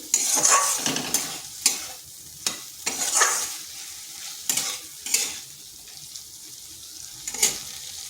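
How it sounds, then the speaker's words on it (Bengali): Pointed gourd being stirred with spices in a pan, repeated scraping strokes of a spatula in uneven bursts over a low sizzle, close and fairly loud. "পটলটা মশলার সাথে ভালো করে মিশিয়ে নিচ্ছি।"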